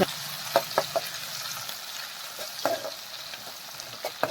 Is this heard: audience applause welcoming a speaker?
no